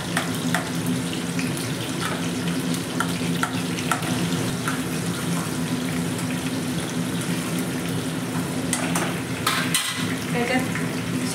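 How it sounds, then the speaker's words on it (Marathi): Chopped onion added to hot oil with cumin seeds fries in a steady, close, broadband sizzle that holds for the whole stretch, with a few light clinks of a utensil scattered through it. "कांदा टाकते आणि कांदा आपण जास्त कापून घेतलेला आहे, ते आता तेलात मोकळा होऊन जाईल."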